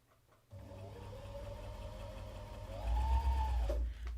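A 12-needle felting machine starts up and runs with a steady mechanical hum and rapid rhythmic chatter like a sewing machine, growing louder near the end before winding down.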